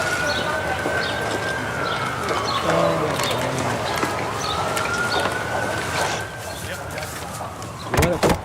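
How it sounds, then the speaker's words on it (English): A siren wails steadily in the background, its pitch sliding up and down, with crowd noise and scattered voices throughout and a couple of sharp knocks near the end. "And the sirens continue to rage."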